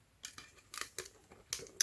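Scissors snip through packing tape on a beauty-products parcel, giving a handful of short, crisp cuts close by in a quiet room, with no talking.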